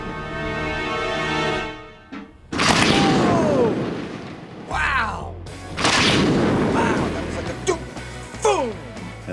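Water heater rigged as a cannon firing in an outdoor test, several loud booming blasts with roaring rushes of water and pressure, alongside excited speech.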